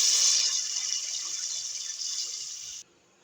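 Water pours steadily into a cooking pot in a continuous hissing stream for nearly three seconds, then stops abruptly, leaving near silence.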